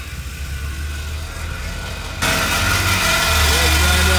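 A Dodge Challenger with a mid-muffler delete idles with a low, rumbling exhaust note that grows louder and fuller partway through, while a person talks over it.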